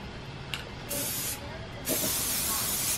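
Two short hissing bursts from a spray paint can on an old garden pot, a brief spritz followed by a slightly longer spray, with quiet room sound between.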